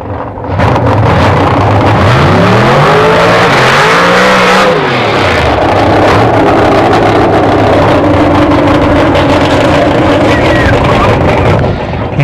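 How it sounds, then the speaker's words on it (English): A Ford Sapphire drag race car makes a trial launch after its burnout, a loud engine roar sweeping up and down in pitch before settling into a harsh, sustained blare with wind noise. "Having completed the burnout, the driver checks its effectiveness with a trial launch."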